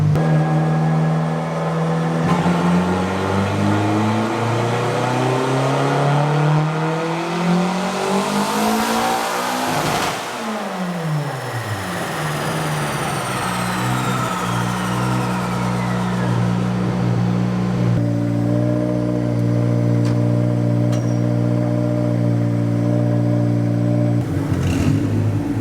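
A turbocharged Mazda Miata strapped to a dyno screams through two full-throttle pulls, its engine note sweeping steadily upward in pitch, then breaking off before settling into a loud, steady high rev, close and continuous.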